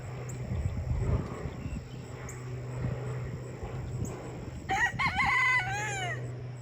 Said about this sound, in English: doing the crowing. That's the little tiny rooster.